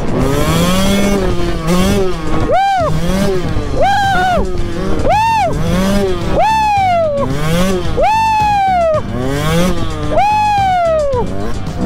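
A motocross bike revs hard over and over, its engine pitch climbing and falling in repeated screaming bursts, loud and close throughout.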